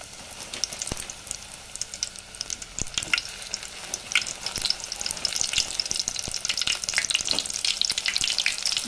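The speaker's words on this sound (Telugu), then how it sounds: "కొద్దిగా ఆయిల్లో డీప్ ఫ్రై చేస్తే కొంచెం ఇలా ఉండకోకుండా కొంచెం క్రిస్పీగా ఉంటుందనేసి" Bajji fritters deep frying in hot oil, a steady close crackling sizzle with dense popping bubbles throughout and no voices.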